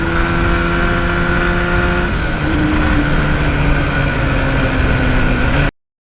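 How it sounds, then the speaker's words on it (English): A 1977 Yamaha RD400 motorcycle with a stock exhaust rides along at a steady pace, its engine buzzing loud and close with a gear or speed change midway, then cuts off abruptly near the end. "this stock exhaust is nice and quiet going through the populated areas"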